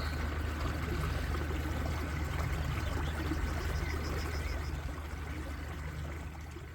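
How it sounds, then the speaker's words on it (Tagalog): Strong current of stream water rushing steadily and loudly, a dense continuous roar close by with no talking, easing slightly toward the end. "Ang lakas ng agos ng tubig."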